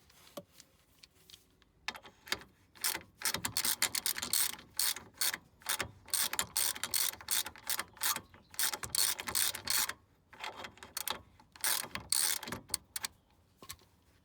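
A ratchet wrench turns bolts while a steering rack is removed from a BMW E30, giving loud, rapid clicking runs in repeated bursts with brief pauses between them, close by and with no talking.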